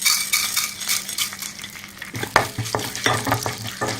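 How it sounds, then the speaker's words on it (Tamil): Chana dal and urad dal fry in hot oil for beans poriyal, a soft sizzle that turns louder partway through, with rattling stirs and scrapes in the pan and no voices. "இப்போ நம்ம எடுத்து வச்சிருக்கிற கடலைப்பருப்பு உளுத்தம்பருப்பு போட்டுக்கலாம்."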